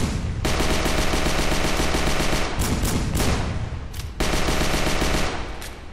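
Sustained pistol and machine gun fire in the zombie VR game Horde Z, loud rapid bursts running almost continuously with a couple of brief pauses.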